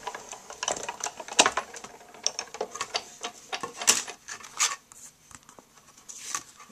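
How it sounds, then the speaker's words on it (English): A Big Shot die-cutting machine cranks an embossing plate sandwich with paper through its rollers, producing a dense, close, rattling mechanical whir with rapid ticking and grinding, no voices. "we're going to put that in our Big Shot. Let me get my other plate to make my sandwich. All right, and then we're going to roll that through"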